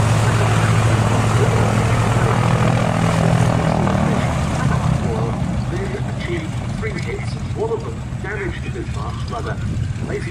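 A Catalina flying boat passes at an airshow, its propeller engines droning loudly and steadily before easing off, while a commentator talks over it throughout.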